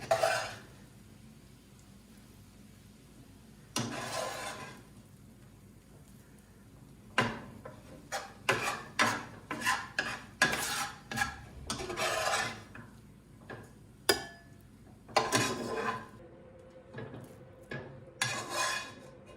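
Egg fried rice made with pot noodle being scraped from a pan into a bowl with a spoon: a run of close, sharp clinks and scrapes in uneven bursts, quiet gaps between, with no speech.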